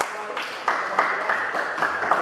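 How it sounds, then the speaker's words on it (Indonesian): A class of students at a vocational high school claps during a physical education lesson, a short uneven patter of hands that swells in bursts, close and fairly loud. "Oke, tepuk tangan."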